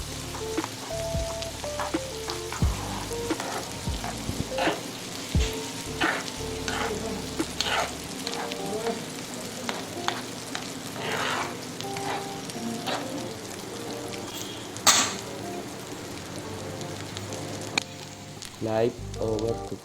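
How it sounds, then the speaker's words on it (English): Eggs get stirred in a frying pan with a continuous sizzle, punctuated by frequent utensil scrapes and taps against the metal, close and fairly loud. "Add the baked eggs and stir"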